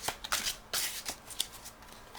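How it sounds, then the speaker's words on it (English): A deck of tarot cards is shuffled during a reading, giving a few quick riffling bursts and soft flutters, close and fairly quiet, with no voice over them. "Let's do it in just one shuffle for both of them."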